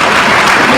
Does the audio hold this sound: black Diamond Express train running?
no